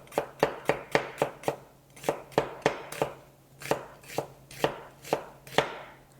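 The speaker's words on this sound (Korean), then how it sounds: "곱게 채 썰어 주시고요." A knife finely julienning onion on a cutting board: about twenty crisp, evenly spaced chops in a steady rhythm, close and clear, with no voices.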